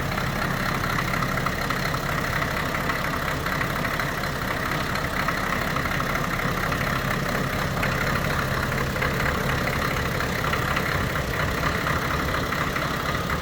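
A 1984 Cadillac Seville diesel idles with its hood propped open, a steady, loud clattering rumble that holds an even rhythm throughout, close up and without any talking.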